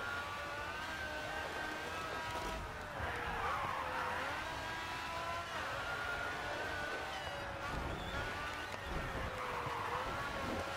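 A Pagani Zonda Revolucion race car in GRID 2, its engine droning at a steady high pitch with rising and falling revs through corners and some tire noise, continuous and close.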